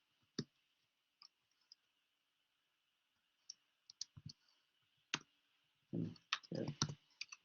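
Scattered clicks of typing on a computer keyboard, sparse single taps at first, then a quicker cluster of keystrokes near the end, close and quiet in an otherwise silent room.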